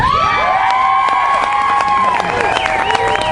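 Loud crowd cheering and whooping fills the whole span at an Oakland A's baseball tailgate event, steady and dense, with shrill shouts and high-pitched voices rising above it.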